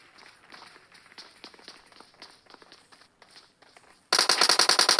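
Gunfire between squads in PUBG Mobile, with faint distant shots and scattered footsteps at first, then a sudden loud, rapid burst of automatic fire close by at the end.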